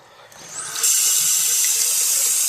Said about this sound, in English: has a drippy, leaky faucet, as you can see